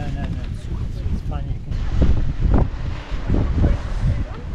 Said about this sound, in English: The wind still got me.